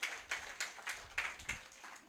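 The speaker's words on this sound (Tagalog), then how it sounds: "Palakpak naman po sa Panginoon." A church congregation claps in a slow, even rhythm, about seven distinct claps over two seconds, fairly soft and slightly distant with no talking.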